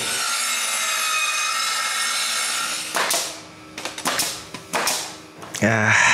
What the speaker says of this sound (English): And I can nail the first plank. I do this all over again.